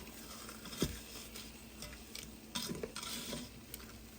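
Chicken pieces fry in a pan and are flipped halfway through cooking. A faint sizzle sits under soft scrapes and a few light clicks of a utensil against the pan.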